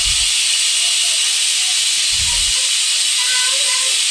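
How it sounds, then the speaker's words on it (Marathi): Steam hisses steadily from a pressure cooker of whole masoor lentil gravy, a loud continuous rush with faint tonal whine and a couple of low thumps. "कुकरचं झाकण लावून कुकरला 3 ते 4 शिट्ट्या काढल्या"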